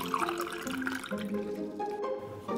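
Water is poured into a glass, a short continuous splash and trickle that shifts in pitch as the glass fills, heard up close.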